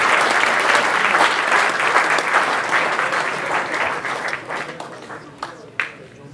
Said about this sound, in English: And can we have a round of applause for Chris Collis on piano?